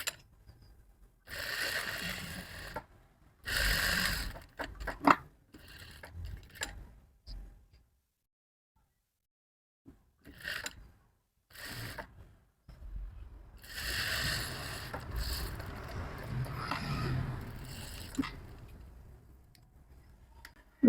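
Sewing machine stitching a basic shirt, running in several loud bursts of rapid mechanical ticking with pauses and handling noise between them, close up.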